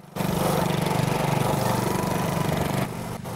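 A racing lawn mower engine runs loud and steady at close range, holding a constant drone before easing off briefly near the end.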